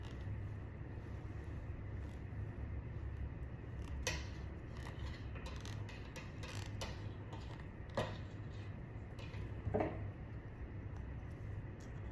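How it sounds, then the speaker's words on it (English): Scissors snip off the end of wool during a needle-felted sheep craft, giving a few soft, brief cuts over a steady low background hum. "I'm just gonna cut off that end."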